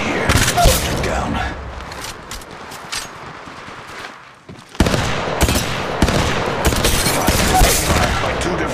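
Rapid gunfire in the Apex Legends Mobile game, bursts of automatic shots crackling close and loud with a brief lull midway, under an in-game voice calling out.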